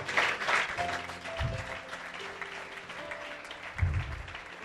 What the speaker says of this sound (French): Applaudissez la parole de Dieu. Aplaudo para Jesus.